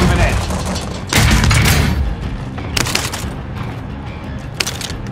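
Stun grenade blast and gunfire in Call of Duty: Modern Warfare, a loud close burst followed by a dense rumbling stretch, then scattered sharp shots and clanks trailing off over several seconds.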